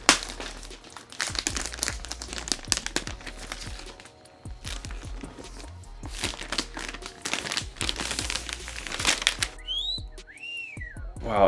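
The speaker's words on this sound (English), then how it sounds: "Let's go ahead and take the plastic off, my favorite part." Plastic wrap is peeled and crinkled off the box of an Alienware X17 R1 gaming laptop: close, sharp crackles and rustles come in irregular bursts with short pauses between them.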